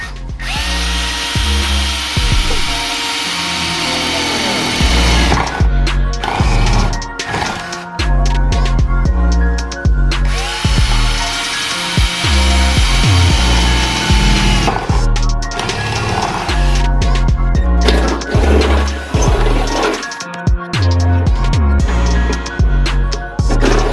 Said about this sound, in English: So what I did was I drill it from the top, especially if it's pretty thick.